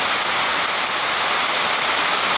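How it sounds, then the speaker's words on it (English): Hard rain pours down steadily in a loud, dense, continuous wash of drops on surfaces, close and unbroken until it cuts off abruptly at the end. "Now it's starting to rain hard."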